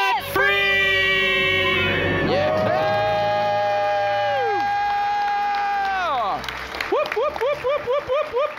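A crowd at a live debt-free celebration shouting and screaming together in one loud sustained burst that swells and then breaks into cheers and whoops, with a voice leading the countdown beforehand.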